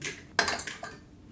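An egg cracks against the rim of a separate container, a sharp close tap followed by faint clinking and a soft drop into the dish, brief and alone.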